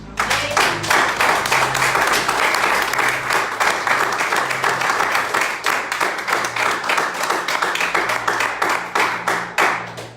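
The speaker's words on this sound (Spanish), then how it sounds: "Den un fuerte aplauso a Dios." A church congregation gives a loud, sustained round of applause, steady dense clapping lasting about ten seconds with no pause.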